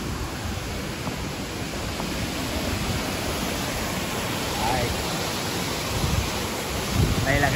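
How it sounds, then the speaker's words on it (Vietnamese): Sương Mù waterfall, also called Mưa Bay, in Bình Thuận province, a loud constant roar of falling water close by with wind buffeting the microphone throughout. "Đây là cái thác cao nhất rồi."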